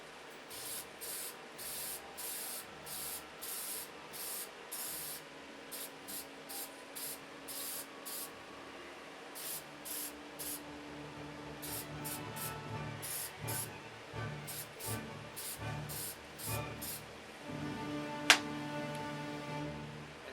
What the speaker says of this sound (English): So, paint this, another coat.